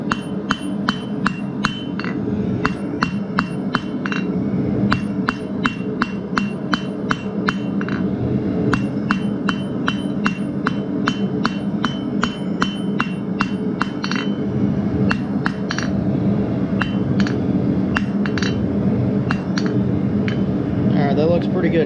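Rapid, evenly spaced hammer blows ring on metal over an anvil while a matchstick holder is being forged, loud and close with a steady background hum throughout.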